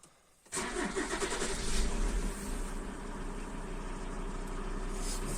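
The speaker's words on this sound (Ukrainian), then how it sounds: "Запускаємо двигуна." A 1997 Audi A6 C4 with a 2.5 TDI diesel engine cranks and catches after half a second of quiet, then settles into a loud, steady close-up idle that carries on to the end.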